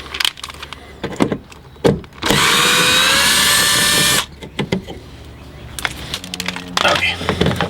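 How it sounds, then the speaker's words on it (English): A power drill whirs loudly for about two seconds drilling out screws on a Mazda RX-8, pitch rising as it bites, surrounded by clicks, clunks and handling noises before and after. "Now we have to drill these two screws out."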